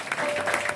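A crowd at a bhajan gathering claps for Milind Chombale, giving a continuous, lively burst of many hands applauding together, close and full.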